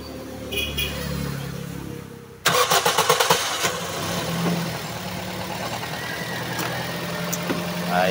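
A Toyota Vios engine cranks and fires after an ignition coil repair, a burst of rapid starter chugs followed by a steady mid-pitched idle, close by, with a background hum before the start.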